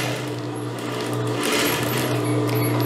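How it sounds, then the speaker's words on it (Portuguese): A sewing machine runs continuously, stitching the waistband of a midi circle skirt, with a steady loud motor hum and rapid needle clatter, briefly easing before picking up again. "Faço a costura aqui"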